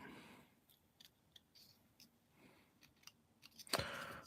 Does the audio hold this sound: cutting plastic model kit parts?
yes